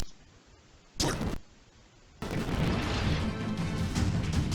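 Warship guns fire in World of Warships: a loud, booming salvo hits, drops back to a low hum, then a heavy sustained rumble of gunfire and explosions takes over.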